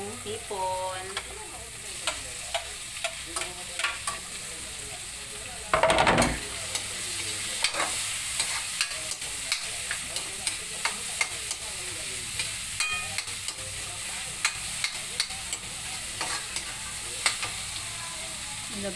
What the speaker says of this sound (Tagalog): Tapos ilagay natin yung hipon.